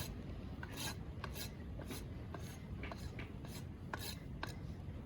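A farrier's rasp filing a horse's hoof during trimming on a low-heeled foot, a faint rhythmic scraping of about ten strokes against a steady background hiss.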